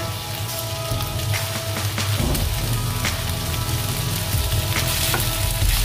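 Pork steak fries in a pan, with a continuous dense sizzle and crackle heard up close and fairly loud, steady throughout, with no talking.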